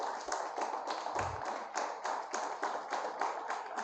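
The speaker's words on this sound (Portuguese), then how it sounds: "Se coloque de pé, aplauda bem forte ao Senhor." A congregation at a church service claps together in a steady, rhythmic beat, the applause dense and continuous throughout with a couple of low thumps early on.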